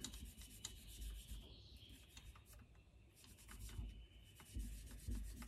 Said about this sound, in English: I'm getting this piston here pretty polished up